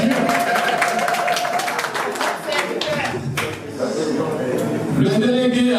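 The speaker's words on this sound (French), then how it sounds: "Nos applaudissements, bien sûr." Audience applause at a party investiture ceremony in Grenoble, steady dense clapping from a crowd lasting throughout, fairly loud and close, with a voice speaking over it at times.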